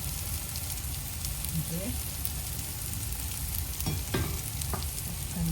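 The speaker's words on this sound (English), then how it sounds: "Take another pan, just make it hot, adding oil." Oil heating in a hot pan gives off a steady broadband sizzle that runs throughout, with a few brief utensil clicks and a short spoken word over it.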